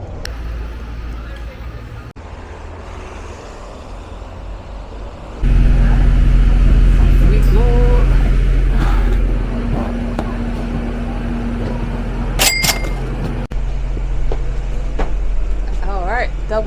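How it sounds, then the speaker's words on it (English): A London double-decker bus on route 27 drives along, its engine rumbling steadily up close, growing louder and stronger partway through, with traffic noise and occasional tonal beeps. "Double-decker bus."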